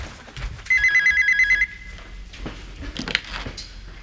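A telephone rings in a 1989 Korean TV drama scene, one steady electronic ring lasting about a second, then soft rustling and room noise with no talk.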